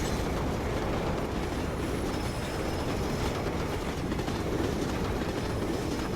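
A moving train in the video game Lost Planet 2 gives off a steady dense rumble with rattling clatter that continues without a break, and no voices are heard.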